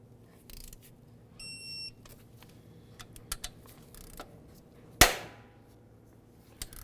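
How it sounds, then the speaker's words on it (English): A sharp crack as a bushing presses into an alternator bracket on a Dodge Journey during repair, standing out from faint clicks and light tool taps in a quiet workspace. "That's the sound of the bushing pressing in."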